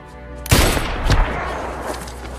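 Film gunfire from a shootout: a loud, sharp burst of shots bursts out, followed by a second volley about half a second later, then a lingering rumbling tail.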